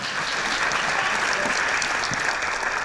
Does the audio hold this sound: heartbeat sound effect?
no